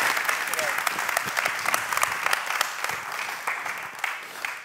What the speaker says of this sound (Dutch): Mag ik een groot applaus voor Paul Henkler